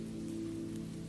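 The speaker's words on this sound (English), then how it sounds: "Only the hush of rain, only the comfort of shelter" Rain falls steadily and softly, a constant low hush with no breaks or individual drops standing out.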